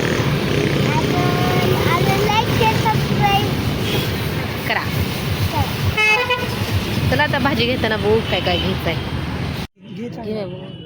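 Busy road traffic near the Pandharpur market, with repeated short honks from vehicle horns over a steady engine rumble, heard under ongoing nearby talk before the sound cuts away near the end.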